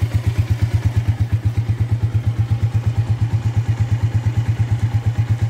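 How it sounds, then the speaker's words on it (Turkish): A Mondial 150 KT motorcycle engine idles after a valve adjustment, with fast, even, loud thumping pulses close by that tick over steadily with no talk. "Rolantide çok güzel sayıyor."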